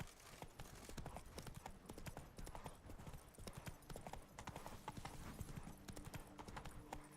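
Roach the horse gallops at full pace in The Witcher 3: Wild Hunt, with rapid, rhythmic hoofbeats pounding close and steady throughout and a faint hint of snorting, and no talk over it.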